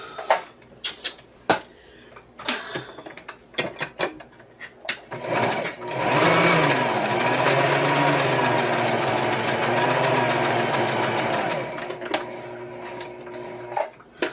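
A sewing machine runs steadily for about six seconds, stitching fabric for a puffy vintage-style Christmas tree, after a stretch of handling clicks and small knocks; the whirring motor is close and fairly loud with no talk.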